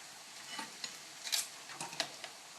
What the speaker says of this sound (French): Et on continue à mélanger